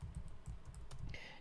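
Quiet, rapid clicking of keys on a computer keyboard, a continuous run of soft keystrokes close up with no talk.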